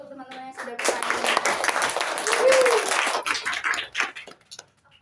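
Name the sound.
audience applause in a classroom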